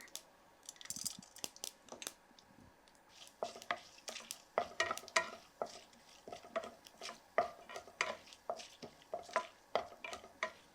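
Urad dal and chana dal frying in hot oil with mustard seeds, giving a soft sizzle broken by repeated clinks and scrapes of a spoon stirring against the pan, with no voices.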